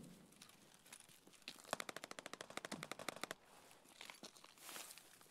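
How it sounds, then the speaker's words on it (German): Gunfire in the video game Escape from Tarkov: a rapid automatic burst of roughly fifteen sharp shots, sounding fairly distant and thin, with faint scuffing and rustling before and after. "das hat hier oben irgendwo eingeschlagen,"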